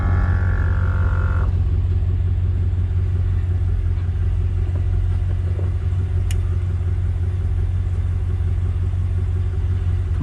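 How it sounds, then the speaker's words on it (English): A Cadillac Escalade's air suspension compressor runs with a continuous low motorized hum and rumble, close and steady, after a brief higher tone at the start, with no talking. "Compressor just kicked on."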